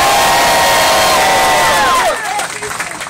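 A crowd at an outdoor bike ride event cheers and applauds for Big Tigger, a loud wash of shouting voices and clapping with a few high whoops and whistles that quickly thins out.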